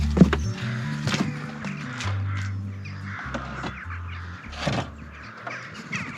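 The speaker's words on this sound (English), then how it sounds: "Crows seem to be a bit of a theme of this trip so far." Harsh crow caws ring out several times, some near and some farther off, over a low humming background.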